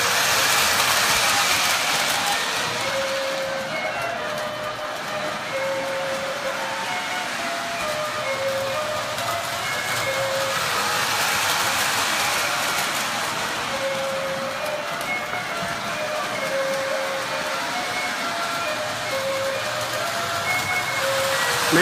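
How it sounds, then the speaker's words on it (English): A small model train runs steadily in a Christmas-decorated New York house, with a continuous whirring rumble and faint repeating clicks along the track. The sound is even and close throughout. "And there's another train here."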